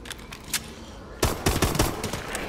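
Gunfire in Call of Duty Exo Zombies: a few scattered shots early, then a dense burst of loud, close, rapid gunshots from about halfway through, with no talking.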